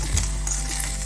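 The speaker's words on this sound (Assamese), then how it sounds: "এয়া ৰঙালাওৰ গুটিখিনি ভাজি হৈ গ'ল।" Pumpkin seeds fry in a hot wok over a lowered gas flame, giving a steady, close hiss of sizzling with faint stirring scrapes and a low background hum.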